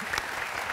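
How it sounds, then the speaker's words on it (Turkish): A television studio audience applauds in a brief, dense burst of steady clapping during a Turkish talk show, with no voices heard. "Peşin peşin alkışlayalım bence."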